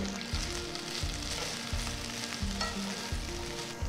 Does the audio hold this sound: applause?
no